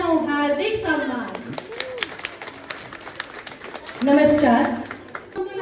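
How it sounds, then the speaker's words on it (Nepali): A group claps to welcome a guest at a belated Teej celebration: a run of sharp, evenly spaced claps sits between spoken voices, with talk before and after the clapping. "हामी सबै ताली बजाएर गर्छौं हार्दिक सम्मान।"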